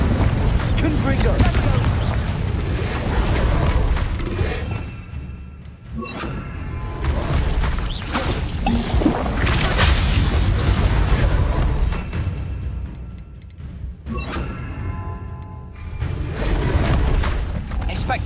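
Confringo blasting-spell explosions in Hogwarts Legacy, a steady run of booming thuds and bursts over a dense, loud game soundscape, with a voice repeatedly calling out over the blasts.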